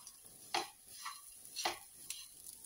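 Grated coconut roasts in a pan over a low flame, a faint quiet sizzle broken by several scraping strokes of a spoon or spatula stirring it at irregular intervals.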